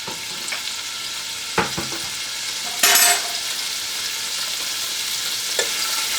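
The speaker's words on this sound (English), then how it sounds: "So let's cook the garlic in the sesame oil." Garlic sizzles and fries steadily in sesame oil in a pan, a continuous loud hiss broken by a few sharp clinks and a brief burst of stirring.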